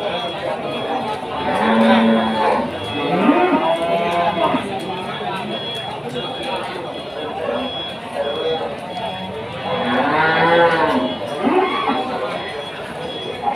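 Simmental cattle low and moo at Pasar Paing, a livestock market in Pati, Central Java, with two drawn-out calls rising over a busy crowd murmur and nearby talk.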